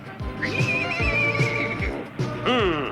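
A horse whinnies loudly several times, long wavering neighs up close, with hooves clopping in the background.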